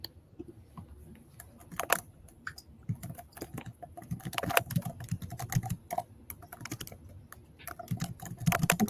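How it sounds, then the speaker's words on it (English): Rapid, uneven keystrokes on a computer keyboard clatter steadily for about nine seconds, close and fairly crisp, with brief pauses between bursts of typing and no talking. "Whose keyboard is that?"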